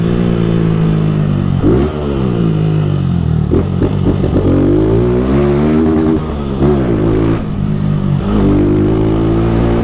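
A Honda Fan motorcycle fitted with a Dore exhaust and filter revs hard and close, its loud engine note rising and falling through repeated throttle blips with a throaty, crackling tone.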